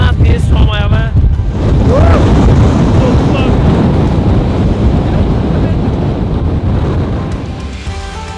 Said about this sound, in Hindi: हवा इतनी ज़्यादा तेज़ है यार, इतना तेज़ स्टॉर्म आया हुआ है